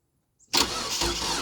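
A Ford Louisville diesel truck cold-starts in snowy, near-freezing weather on weak batteries after the glow plugs warm: a brief crank, then the engine catches abruptly and settles into a loud, steady, rough idle close by.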